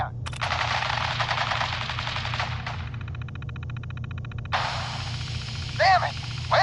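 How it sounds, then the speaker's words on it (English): Video-game gunfire: a sustained burst of rapid machine-gun fire, then a pause of rattling echoes and another long burst, loud and close, with a voice calling out between volleys. "Men, open fire."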